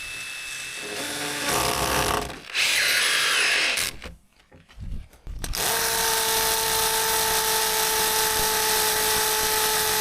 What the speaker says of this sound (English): Marin, let's check the concrete drill bits I have.